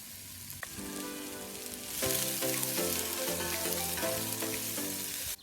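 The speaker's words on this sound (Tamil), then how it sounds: "ரெண்டு பெரிய வெங்காயம் சின்ன சின்ன வெட்டி வச்சுக்கிறேன். அதையும் இப்போ சேர்க்குறேன்." Chopped onions drop into a chicken curry pot cooking outdoors, frying with a steady crackling sizzle that rises into a dense, louder hiss after a couple of seconds, without any voices.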